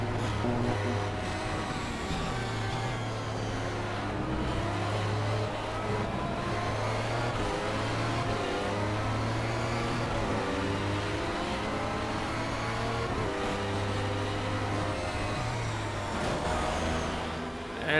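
Race car engines roar continuously in Project CARS, a steady loud drone with rising and falling revs as the cars accelerate and shift through corners, including a Toyota, with no voices.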